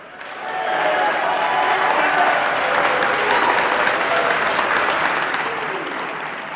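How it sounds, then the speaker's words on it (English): Crowd applause rises at a cadet boxing event as the final belt is presented, dense sustained clapping that swells in quickly and holds loud before easing slightly. "A round of applause."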